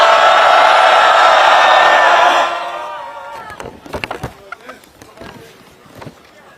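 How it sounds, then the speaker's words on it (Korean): A crowd at an outdoor candlelight rally in Korea, calling for the president's resignation and impeachment, claps and cheers loudly for a few seconds, then the noise falls away to scattered claps and thumps. "여러분, 큰 박수와 함성으로 모시겠습니다."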